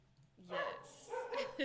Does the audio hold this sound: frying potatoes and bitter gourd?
no